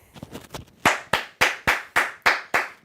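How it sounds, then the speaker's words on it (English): One person claps hands in praise of a football team's defense: a few soft, quick claps, then seven loud, evenly spaced sharp claps close to the microphone, with no talk. "Clap it up to the defense."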